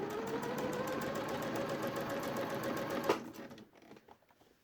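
A sewing machine stitches along a dungaree bib strap with a fast, even needle rattle for about three seconds, then halts with a click as quieter handling follows.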